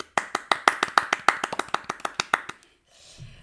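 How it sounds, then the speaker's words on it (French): A single pair of hands claps about fifteen times in a quick, slightly uneven rhythm, close and crisp, then stops, leaving a faint rustle. "Ça s'applaudit"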